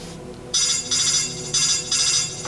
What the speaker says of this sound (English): No, sorry, that's my phone.